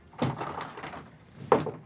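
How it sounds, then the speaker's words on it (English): A wooden sliding door in a traditional Gasho-style farmhouse turned inn at Shirakawa-go runs along its track, ending in a firm knock, with a second sharp bump a moment later, close and loud. "Almost broke the door."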